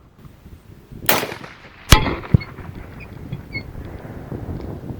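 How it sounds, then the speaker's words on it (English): A single rifle shot cracks sharply, fired at a long-range target, followed by a distant echo and a fainter report, with wind buffeting the microphone afterward. "Get it steady on there and just squeeze the trigger."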